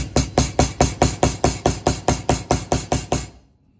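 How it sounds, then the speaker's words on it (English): A rubber mallet tapping woven wire jewelry on a block, about thirteen evenly spaced, firm, close-up knocks in a steady rhythm, the last few fading out. "I use my rubber mallet thing"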